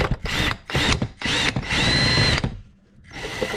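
A handheld power drill runs in several short trigger bursts and then one longer whir during belt and drum guide work on a Maytag LDE6914ACL dryer. The drill is close and loud, and brief pauses fall between the bursts.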